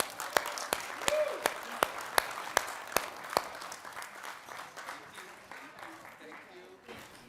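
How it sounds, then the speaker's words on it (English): A final round of applause from an audience at a partnership event opens with a string of sharp, loud claps close by, then fades into lighter scattered clapping while someone speaks briefly. "we have to do one last round of applause"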